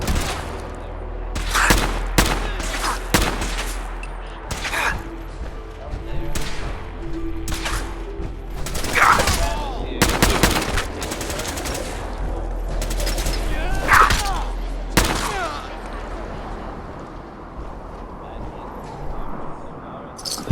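Gunfire in the Fallout 4 video game, loud repeated shots and bursts cracking in irregular clusters over a continuous low rumble, with occasional game voice.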